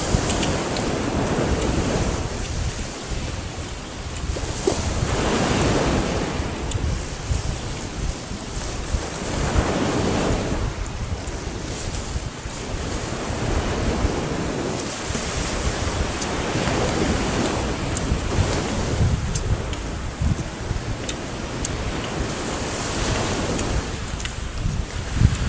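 Sea waves wash steadily onto a beach in continuous surf, with strong wind buffeting the microphone throughout and no voices.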